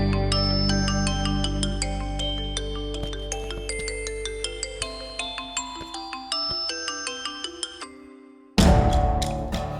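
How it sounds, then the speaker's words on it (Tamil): A phone ringtone in a Tamil TV serial plays a bright, repeating electronic melody of plucked-sounding notes for several seconds. It then cuts off and a sudden, louder burst of sound follows. "சுபாஷ் விக்ரம்க்கு ஃபோன் பண்ணாம நமக்கு எதுக்கு ஃபோன் பண்றாரு?"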